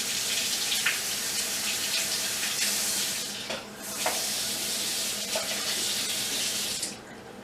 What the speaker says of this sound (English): Here's a little residue in the top, which I will rinse off.